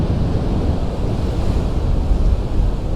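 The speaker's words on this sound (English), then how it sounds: "seen the waves crashing against the hard standing here" Waves wash steadily against the hard standing along the Sant Elm shore in Mallorca on a breezy day, a continuous close roar of surf mixed with wind buffeting the microphone.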